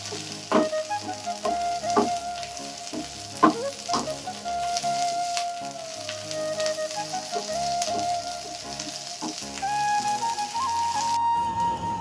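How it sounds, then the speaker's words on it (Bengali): Curry leaves crackle in hot oil as a tempering for a chutney served with masala dosa. A steady, close sizzle carries sharp pops and occasional stirring clinks, with no voices. "আর একটু ভাজা হবে কারি পাতাটা"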